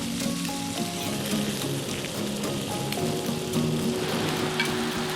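Steak glistening under a cooking torch flame sizzles and crackles steadily, a dense close frying hiss with scattered pops throughout.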